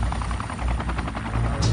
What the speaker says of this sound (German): Plötzlich erschien eine Gruppe von Doppelrotor-Hubschraubern am Himmel